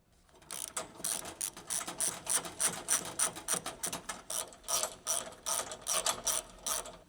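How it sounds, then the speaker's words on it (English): A large ratcheting wrench with a 12mm short socket tightens track bolts for a Dodge Ram 1500 side step, giving rapid, close clicking bursts in a steady back-and-forth rhythm. "Use the large 12mm short socket with the large ratcheting wrench to tighten them."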